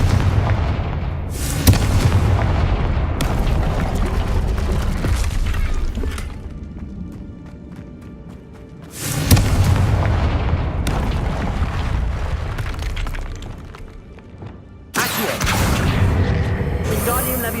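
Blasting spells in Hogwarts Legacy set off a series of heavy booming explosions, each a sudden loud burst that rumbles and decays over several seconds, with game music and effects running underneath.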